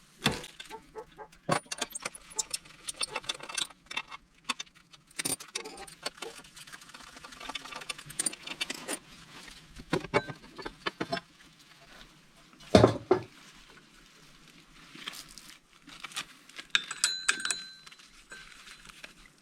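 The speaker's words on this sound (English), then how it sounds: "First, let's take off the transmission cover." Workshop sounds of removing the transmission cover on a Polini Evo 50cc scooter: scattered light metallic clicks, taps and jangles of tools and bolts, with one sharper knock midway, all fairly quiet and close.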